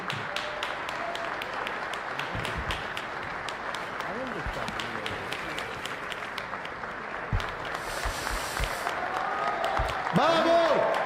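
Sustained applause fills the Argentine Congress chamber as the president enters to present the 2025 budget, a continuous crowd of clapping hands heard at a distance while voices talk over it throughout.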